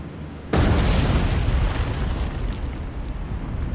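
A torpedo strikes the side of a battleship in the naval game War on the Sea, setting off a sudden loud explosion followed by a long, heavy rumbling roar that fades slowly.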